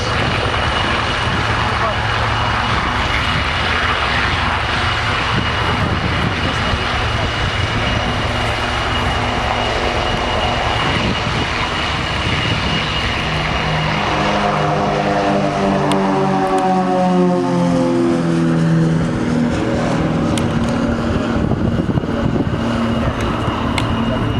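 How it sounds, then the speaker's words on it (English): Four Extra EA-330LX unlimited aerobatic aircraft of the Royal Jordanian Falcons at an airshow: a loud, continuous propeller-engine drone with a rising, sweeping pitch as they pass, under a steady crowd and commentary backdrop. "The four extra EA-330LX unlimited aerobatic aircraft of the Royal Jordanian Forces."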